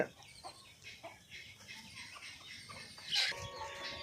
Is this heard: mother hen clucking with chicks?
yes